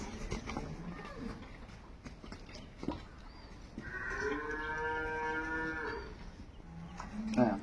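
Dairy cows with calves at a cattle market give a long, close, loud moo with a rising then falling tone, amid background chatter and a few knocks.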